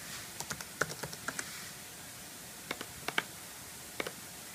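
Password typed on a computer keyboard of an older Mac: a run of sharp, close key clicks in a quick uneven burst, a pause, then a few more scattered keystrokes over a quiet room.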